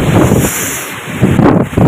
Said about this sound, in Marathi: झाड तर हवा कशी हालते लय म्हणजे लय सुटलं